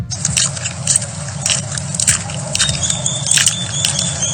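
An animal chews loudly and close up, with crunchy bites and wet, squishy sounds in an uneven, repeated rhythm and no voices.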